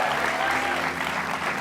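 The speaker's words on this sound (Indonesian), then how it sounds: "Tepuk tangan buat Cinta Laura." A studio audience claps steadily for a guest on an Indonesian rooftop TV variety show, a dense, lively burst of applause close to the microphones that lasts throughout.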